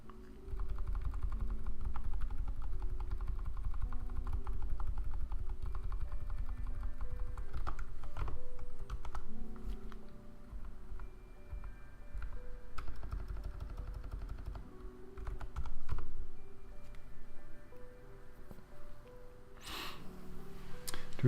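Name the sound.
typing on a new computer keyboard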